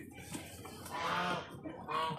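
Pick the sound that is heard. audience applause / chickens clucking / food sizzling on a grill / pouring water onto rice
chickens clucking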